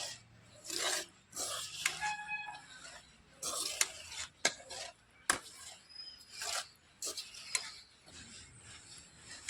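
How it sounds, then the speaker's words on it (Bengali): A spoon gently stirs freshly made mihidana sweets in a pan, producing close, soft scraping and rasping strokes in irregular bursts with brief clinks, fairly quiet overall. "এইভাবে চামচের সাহায্যে একটু নাড়াচাড়া করে নেব।"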